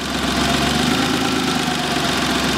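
A 2007 Daewoo Matiz 0.8 automatic idles steadily with a dense mechanical hum and engine vibration, close and continuous throughout, with a slightly uneven, wavering rev level.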